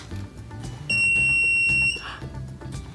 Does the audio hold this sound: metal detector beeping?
yes